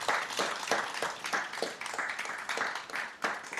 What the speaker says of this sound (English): how about a round of applause for the speakers today?